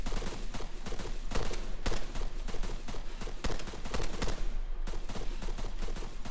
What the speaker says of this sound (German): Auf Reifen schießen.